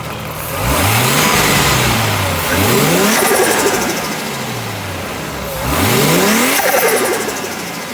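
A Nissan 240SX with an RB20 engine and RB25 turbo upgrade revs up close by in three rising bursts, each climbing sharply then falling back to a rough idle between pulls.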